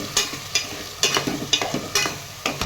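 Mutton pieces stirred into ginger garlic paste frying in a pan for mutton dum biryani, with sizzling under a series of roughly six sharp scraping stir strokes at an uneven rhythm, close and moderately loud.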